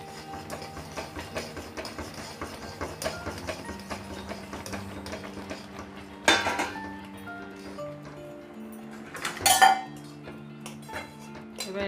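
Semolina being stirred nonstop in a pan over high heat, metal utensil scraping and clinking against the pan in an irregular rhythm, with two louder clanks.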